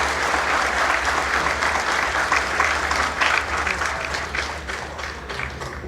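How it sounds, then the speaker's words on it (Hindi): A large crowd at a government job appointment ceremony in Jharkhand claps steadily and loudly, a continuous wash of applause lasting throughout with a low hum beneath and no voices on top. "जोरदार तालियां होनी चाहिए आप सबकी तरफ से।"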